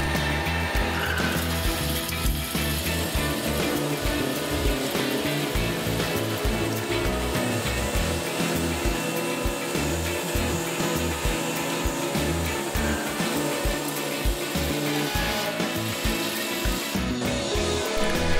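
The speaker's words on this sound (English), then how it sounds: "The indexable coated carbide insert drill operates at 6 inches per minute" An AMSAW S300 carbide rail saw with an indexable coated carbide insert drill cutting and drilling rail, giving a continuous loud industrial grinding whine with a gritty texture that lasts throughout and is heard alone.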